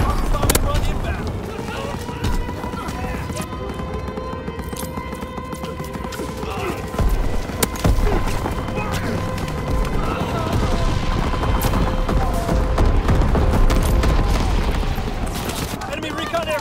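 Call of Duty WWII battle: dense rifle and machine-gun fire crackles throughout, with heavy explosions and a bombing run rumbling amid battlefield chaos, while voices shout over the din.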